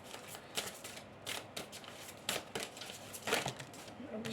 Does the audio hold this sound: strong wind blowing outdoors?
no